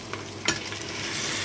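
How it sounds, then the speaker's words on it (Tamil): Half a kilo of pre-boiled mutton goes into a mutton biryani pot, landing with a brief clatter and stir followed by a steady sizzle that carries on alone, close and moderately loud. "இந்த 1/2 கிலோ மட்டனையும் ஆட் பண்ணிக்கலாம்."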